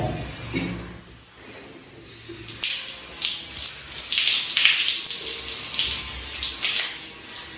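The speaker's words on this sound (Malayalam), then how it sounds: "ഫസ്റ്റ് നമുക്ക് ഈ വെള്ളം ഒഴിച്ച് കളയാം" Water pours and splashes steadily while hair dyed with Indus Valley hair color is rinsed, starting softer and then gushing louder and continuously from about two and a half seconds on, close by and with no talking.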